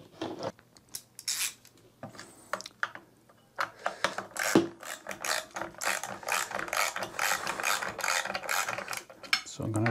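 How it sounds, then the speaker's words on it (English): A ratchet tightens the axle nuts on a KingSong 18XL electric unicycle, with bursts of rapid clicking close by, separated by short pauses and handling noises. "try to make sure that my tightening is kind of even"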